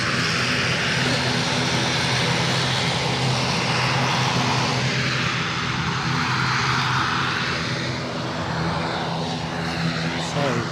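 Small aircraft engine droning steadily at Edinburgh Airport, a loud continuous roar with a slowly shifting pitch as the plane passes nearby.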